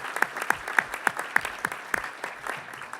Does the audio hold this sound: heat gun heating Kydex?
no